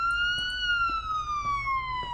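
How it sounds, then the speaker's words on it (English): Police car sirens from the video game Police Simulator: Patrol Officers wail in a steady, slowly falling tone, loud and close, with faint background noise beneath. "Now I have to hear these sirens."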